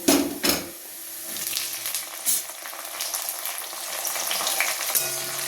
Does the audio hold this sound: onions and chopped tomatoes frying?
yes